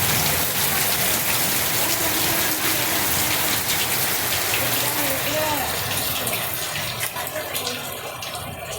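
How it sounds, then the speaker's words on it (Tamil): Steady heavy rain pours down outdoors, a continuous dense hiss with splashing water, holding level for the whole stretch before easing slightly at the end. "இப்போ சொன்ன மாதிரியே மழை பெய்யுது."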